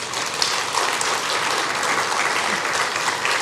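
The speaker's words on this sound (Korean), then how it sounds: "장로님 우리 격려의 박수로 우리 한번" Church congregation giving an elder encouraging applause during a Sunday service, many people clapping together in a loud, dense, sustained burst that holds steady and is free of talk.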